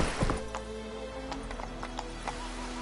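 Roach the horse galloping in The Witcher, with soft rhythmic hoof thuds and a few sharper knocks over a steady low in-game rumble and ambient hum.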